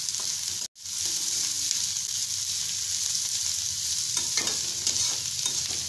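Carrots and ginger, with cabbage, are stirred in a frying pan, giving a steady sizzle with brief scraping strokes, a short cut near the start and no voices.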